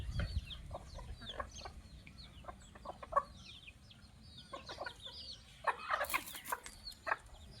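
Chickens, chicks and a black hen in a farmyard cluck and chatter in repeated short bursts while being fed, with an occasional louder squawk and steady low background noise.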